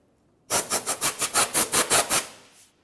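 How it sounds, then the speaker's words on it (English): Compressed air blasts in about a dozen short, evenly spaced hissing bursts while an exhaust manifold from a 2005-2010 Chevrolet Cobalt is cleaned, loud and close with no talking. "Compressed air."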